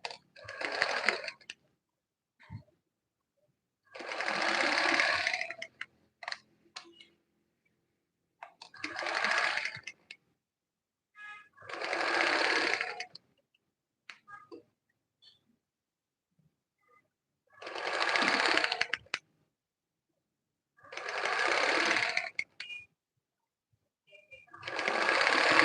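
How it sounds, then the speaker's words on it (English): A sewing machine top stitching a smocked sleeve, running in seven separate whirring bursts of a few seconds each with quiet pauses between, close and clear. "So we just top stitch."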